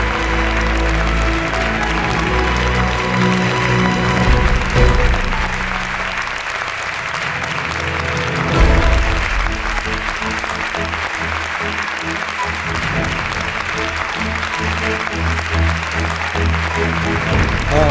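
Wedding guests in a convention ballroom applaud the bride's entrance, a long sustained roar of clapping heard throughout, layered over loud ceremonial music with shifting low notes.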